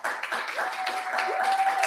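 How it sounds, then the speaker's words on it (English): An audience applauds at an inter-university debate as the debaters are called up, a steady wash of clapping held at even loudness for a couple of seconds with no talk over it. "Round of applause for our debaters as I call them up."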